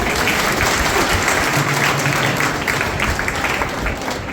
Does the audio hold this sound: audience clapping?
yes